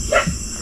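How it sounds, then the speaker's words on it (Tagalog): Short single dog bark on a farm, a dog reacting to a frog's shadow, loud and close, with no one talking. "Kaya lang yung mga aso namin dito sobra eh. Makakita lang ng anino ng palaka eh. Tumatahol."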